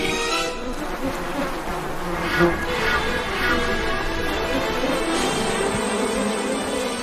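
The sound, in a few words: insect swarm buzzing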